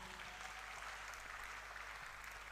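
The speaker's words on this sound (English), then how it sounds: "Please, a round of applause for our panelists again" Faint, distant applause from a convention audience after a panel discussion, a steady soft patter of many hands that holds evenly without a break.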